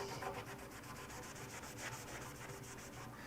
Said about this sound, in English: Cleaning the surface. Making sure that it's getting down in there.